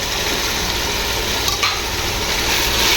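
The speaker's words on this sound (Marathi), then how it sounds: "मटण पण तेलात छान परतून घ्यायचं" Mutton frying and being stirred in hot oil with tomato-onion masala, a steady loud sizzle with scraping stir strokes throughout, no talking.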